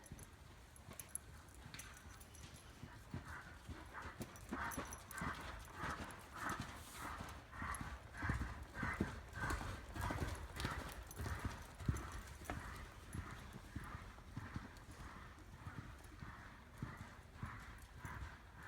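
Horse cantering in a riding lesson, its hooves clip-clopping in a steady, rolling rhythm at moderate distance, with faint breathing and tack noise and a brief snort, while the rider's and coach's voices drift in quietly now and then.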